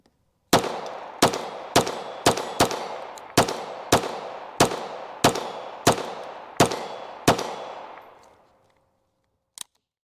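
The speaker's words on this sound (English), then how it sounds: "as you can hear and see, this little 502 tactical, or I'm sorry, just 502, is so much fun to shoot" An FN 502 .22 pistol fired at a range, about twelve sharp, close shots in a steady string, each ringing out briefly, then a single later crack after a pause.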